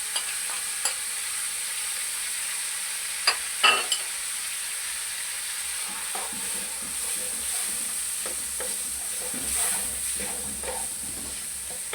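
Vegetables seasoned with chicken powder stir-fry in a pan for Singaporean rice, a steady close sizzle with scraping spatula clicks and brief louder stirring knocks, no talk.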